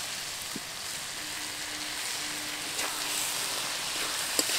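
Boiled banana flower goes into a hot pan of spices for Bengali mochar ghonto, giving a steady, soft sizzle and crackle of frying with a few faint clicks, with no talk.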